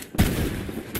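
A single sharp gunshot in the video game Fortnite: a short blast with a brief decaying tail, then a second quieter burst near the end, with no talk over it.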